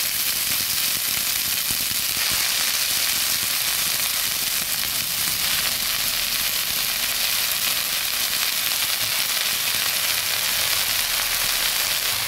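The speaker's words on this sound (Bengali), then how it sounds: "এখন সুন্দর করে শাকগুলো ভেজে নেব।" Chopped bottle gourd leaves frying in a kadai give a continuous close hiss and sizzle with scattered crackles and faint stirring. The sound holds steady and strong for the whole stretch, with no talking.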